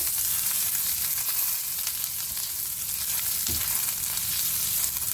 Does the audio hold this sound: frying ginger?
yes